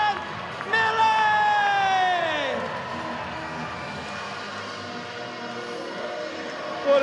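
A crowd of about 5,000 roars and cheers at a Savannah Bananas baseball game in historic Grayson Stadium, swelling loudly near the start and then holding as a broad sustained wash, with a rising tonal sweep and voices over it.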